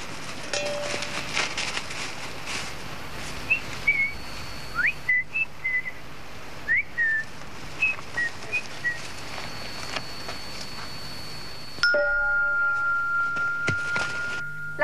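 A person whistles a warning signal in short, separate bursts, several quick whistled notes repeated over the middle of the stretch against a steady background hum, with a sharper tonal sound near the end.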